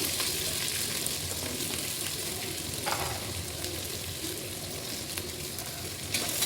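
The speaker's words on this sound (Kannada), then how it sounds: "ಆಮೇಲೆ ಈರುಳ್ಳಿ ಹಾಕ್ಕೊತಾ ಇದ್ದೀನಿ" Onions frying in hot oil for avarekalu upma, a continuous dense sizzle with occasional stirring scrapes, close and steady with no talking.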